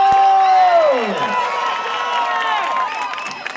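Crowd at a festa junina quadrilha dance performance cheering and whooping, loud and close, with shouts and a drawn-out call over the noise and clapping mixed in.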